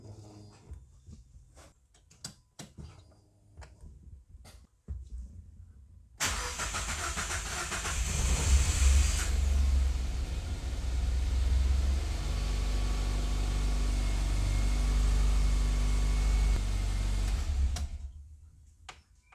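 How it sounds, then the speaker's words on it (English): A new fuel pump for a 1.5 Mazda 2 is primed before installation: a few faint clicks, then a steady electric hum for about twelve seconds that stops abruptly. "Now I'm going to prime the pump for first time before installation."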